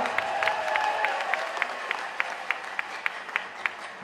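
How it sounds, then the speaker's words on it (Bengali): An audience at a public gathering in Narayanganj claps for the local police, a steady wash of applause punctuated by regular, sharp beats of near-unison clapping, with no voices over it. "সেই পুলিশকে কি আমরা জোরে একটা করতালি দিয়ে তাদেরকে ধন্যবাদ জানাতে পারি না"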